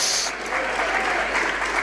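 A church congregation claps together in steady, dense applause, loud and close throughout the short moment.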